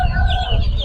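At a poultry market in Sabunchu, Baku, roosters and hens cluck and crow loudly and close by, several birds calling at once over low crowd noise in a short burst.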